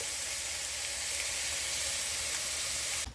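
Ground beef for taco meat sizzles and crackles steadily in a hot pan, a dense, even frying hiss with no voices that cuts off abruptly at the very end.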